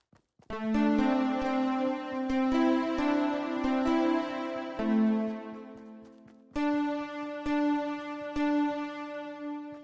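A simple melody from Fortnite music blocks plays a song, a run of clear synthetic tones in a steady rhythm with a short pause partway through, loud and alone with no talk.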